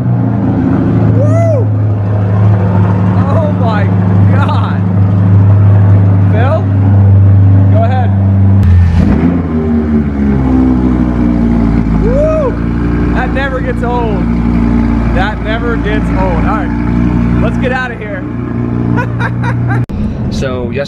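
A 2021 Porsche Cayenne GTS fires up from cold with a loud, deep engine roar that settles into a high idle, close by, while people talk and call out over it.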